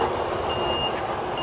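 A lorry's reversing beeper sounds at a car wash, a high, steady electronic tone that beeps twice over constant background rush, with no talking.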